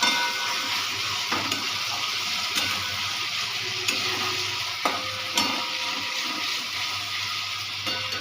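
Potato frying in a hot pan for a banana-flower mochar ghonto, a loud, steady close-up sizzle with occasional sharp scrapes and clinks from stirring.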